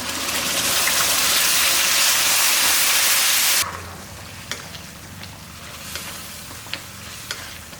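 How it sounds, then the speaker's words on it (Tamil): Tomatoes and onions sauté in oil with a loud, dense sizzle for a few seconds, which then drops to a quieter, softer frying crackle broken by occasional stirring clicks and scrapes. "பாருங்கள், தக்காளியை நல்லா வதக்கிட்டோம்."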